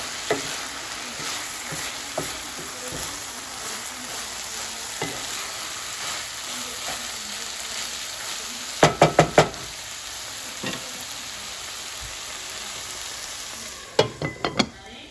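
Kheema methi, minced meat with fenugreek leaves, sizzles steadily in oil in a pan while a spoon stirs it, with a few clustered scraping knocks against the pan near the middle and at the end.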